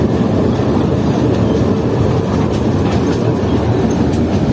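A small toy train runs through the Changa Manga forest in Pakistan, giving a steady, loud, continuous rumble of wheels and carriages with faint clickety-clack, heard close and alone without talk.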